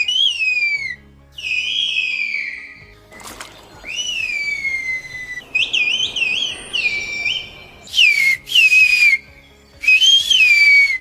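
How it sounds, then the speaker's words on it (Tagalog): A person whistles in a whistled language used in Turkey, a series of sharp, pitched phrases with rising and falling glides, loud and close, separated by short pauses, like a whistled conversation. "Kahit nasa kabilang bundok ang kausap ay nagkakaintindihan sila sa kanilang mga sipol."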